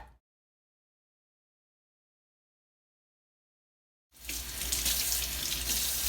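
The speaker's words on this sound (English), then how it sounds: "What I'm doing is rinsing off my thyme." Kitchen tap water runs over fresh thyme being rinsed, a steady close hiss that starts suddenly after a long silence and keeps flowing to the end.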